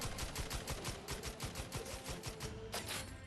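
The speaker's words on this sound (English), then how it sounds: "10 shots to the head" Rapid gunfire rattles against enemies in Outer Worlds 2, a steady stream of sharp automatic shots about ten per second, loud and continuous for over three seconds.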